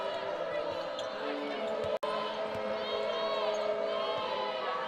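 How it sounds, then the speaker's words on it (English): A basketball arena crowd at a Gonzaga women's game against Loyola Marymount keeps up a steady roar of cheering, with a commentator talking over it and a brief sharp dropout near the middle. "Listen to this crowd."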